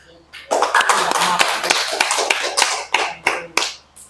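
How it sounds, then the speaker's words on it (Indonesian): A classroom of students applauds their classmates, a burst of dense, steady clapping lasting several seconds, then fading into a few separate louder claps near the end. "Kasih aplaus dulu buat teman-temannya."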